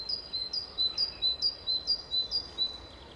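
Birds singing along the left bank of the Warta river in Poznań in spring, a series of repeated high chirping phrases spaced at a steady rhythm over a faint outdoor background hiss.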